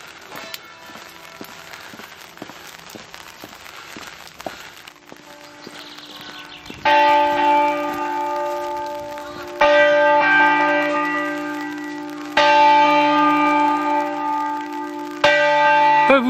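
Church bells ring outdoors in the Val Mara area of Valle Intelvi, a series of loud, resonant strokes that each sustain and overlap, growing stronger after a quieter stretch with faint tapping.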